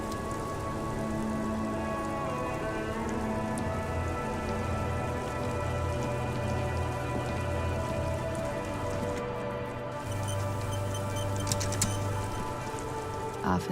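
Steady rain in the video game Disco Elysium, a continuous hiss of drops on surfaces under a low droning game soundscape, constant and moderately quiet across the whole stretch.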